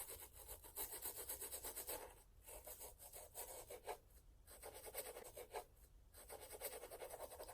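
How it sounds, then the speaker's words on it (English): A brush scrubbing a shoe, including its inner parts and sides, in quick rhythmic back-and-forth bristle strokes, close and fairly loud, with a few short pauses. "You can even scrub the sides of your shoe."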